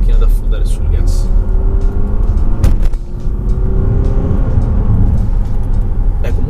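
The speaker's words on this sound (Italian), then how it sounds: "Proviamo un pochino ad affondare sul gas." Volvo XC90 Mild Hybrid SUV with a turbo diesel engine accelerating hard, a loud, close engine rumble that builds steadily with a brief sharp knock partway through.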